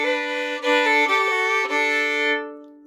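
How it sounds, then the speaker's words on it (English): Fiddle phrase from a song with a brief open A slipped in before a first-finger note, a few bowed notes with clear changes, sustained and then ringing out, solo and close. "With any of these, you can sneak in a little open A before the first finger."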